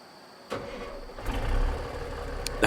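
Peterbilt 362 truck engine starting in American Truck Simulator, a sudden crank that rises into a loud, close rumbling idle with a slight choking rattle.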